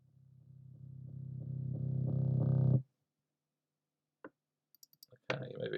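A reversed audio clip plays back in a beat-making program, a low, buzzy tone swelling steadily louder for nearly three seconds before cutting off sharply, followed by scattered mouse clicks and a burst of a new sound.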